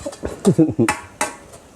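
A metal utensil scrapes and clanks against a pan in a few quick stir-frying strokes, close by, with a voice talking in Thai over it.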